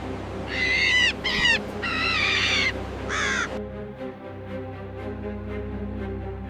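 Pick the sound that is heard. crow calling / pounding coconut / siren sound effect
crow calling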